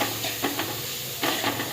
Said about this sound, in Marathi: आता हे खोवलेलं खोबरं आहे ना चांगलं आपल्याला परतून घ्यायचं आहे।